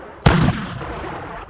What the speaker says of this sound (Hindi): बाहर वॉल्ट कटते ही सैनिकों ने धमाके की आवाज सुनी